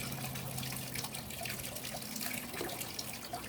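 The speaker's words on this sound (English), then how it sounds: "Water's way too fast." Water rushes too fast through a gold-prospecting sluice box, making a continuous rushing, splashing flow with small gurgles and trickles. It is moderately close and heard alone, without speech.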